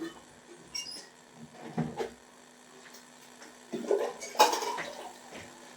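Pressure cookers and metal pots clank and scrape as they are handled in a home kitchen while rice is being cooked, in a few separate bursts of clatter with quiet pauses between them.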